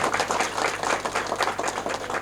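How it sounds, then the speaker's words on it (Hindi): An audience at a political gathering applauds to welcome a guest, with steady, dense clapping that carries on throughout. "जोरदार तालियों से स्वागत करो सभी साथियों"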